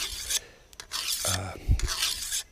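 A file rasps along a machete edge in a few short, close strokes, each a harsh scraping burst with brief pauses between.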